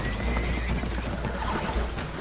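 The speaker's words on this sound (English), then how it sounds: "Horses are spooked" Spooked horses neigh and whinny aboard a leaking boat in the video game Red Dead Redemption 2, over a dense wash of water and ambient noise, calls drawn out and mid-distance.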